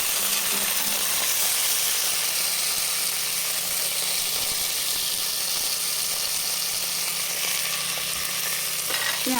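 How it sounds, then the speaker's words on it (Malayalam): Chicken pieces sizzle and fry in a hot pan while being stirred for chicken macaroni, a loud, steady, dense crackle that runs without a break and with no voices. "എന്നിട്ട് ഇനി നമുക്ക് ഈ ചിക്കൻ അതിനകത്ത് ഇട്ടതാം."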